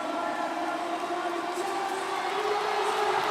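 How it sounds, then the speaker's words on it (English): An arena crowd at a professional basketball game between CLS Knights Indonesia and Formosa Dreamers roars in a steady, loud wash of cheering with no letup. "The crowd is hyped, folks."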